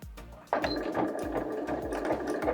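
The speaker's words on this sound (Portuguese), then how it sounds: "Eu vou fazer uma costura rente aqui e já volto." A sewing machine runs a straight seam close to the edge of white fabric with white thread for a coin purse. It starts abruptly and holds a steady, fast, close mechanical whir and rhythmic stitching with no speech.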